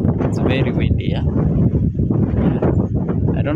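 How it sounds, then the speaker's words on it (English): Strong outdoor wind buffets the microphone in heavy, continuous rumbling gusts that fill the whole stretch, while a person talks throughout. "it's very, very windy today"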